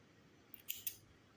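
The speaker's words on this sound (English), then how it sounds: "then chain 1 and you can cut your yarn" Scissors snipping crochet yarn after finishing an amigurumi leg, two or three quick close snips alone in a quiet room.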